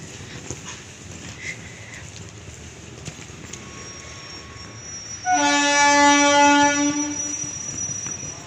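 A train at a dark railway station, with a low rumble of rolling cars building before a loud, sustained horn blast cuts in about halfway and holds for several seconds, close by.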